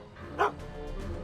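A single short dog bark in the Back to the Future video game, one quick yip rising over a low steady background hum, close and moderately loud.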